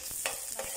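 Onion sautéing in a pan for mechado, with a steady hiss of frying and two brief bursts of stirring that rise over the sizzle, close and fairly quiet.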